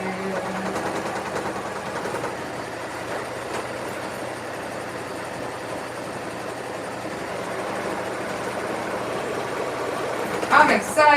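A sewing machine with a wide open-toe presser foot stitches a long fabric strip at an unhurried, steady pace, its rapid mechanical chatter running continuously at close range before a few louder knocks at the very end.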